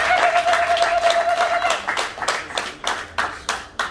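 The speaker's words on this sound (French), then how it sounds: "applaudissez pour le papa" Wedding guests clap for the bride's father during a marriage ceremony: a brief mixed burst of applause that soon breaks into a few loud, separate claps, with a sustained tone fading early on.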